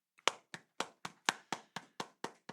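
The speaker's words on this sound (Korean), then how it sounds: "우리 박수 한번 칠까요?" Hands clap in an even, measured rhythm of about ten separate sharp claps, fairly quiet and somewhat distant, with silence between each clap, at a church youth worship service.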